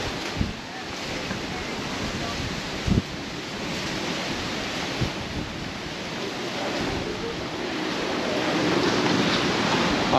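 Sea waves wash up over the sand on a Mallorca beach in late March, a steady broadband roar of surf mixed with wind buffeting the microphone, swelling slightly louder toward the end.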